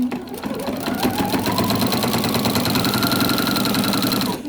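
A sewing machine fitted with a walking foot stitches a quilt seam, its rapid mechanical needle rhythm running steadily and close for the whole stretch before stopping at the end.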